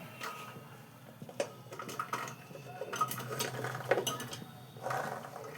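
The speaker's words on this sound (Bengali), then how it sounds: "প্রেশার কুকারে আমি সব সবজিগুলো এক এক করে ঢেলে দিচ্ছি।" Chopped vegetables tumble into a pressure cooker in irregular bursts, with clattering knocks against the metal pot and scraping as pieces are tipped in one after another, fairly close and without talk.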